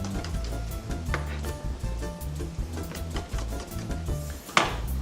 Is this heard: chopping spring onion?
yes